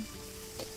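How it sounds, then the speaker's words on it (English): Meat sizzles on a cooking spit in the video game Valheim, a soft steady frying hiss with one brief louder crackle near the end, no voices. "soon as you hear the sizzle"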